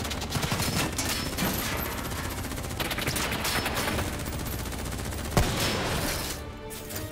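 Sustained, dense gunfire in Call of Duty Black Ops 3, with automatic bursts overlapping into a continuous loud barrage for several seconds and one sharper crack near the end before it eases slightly.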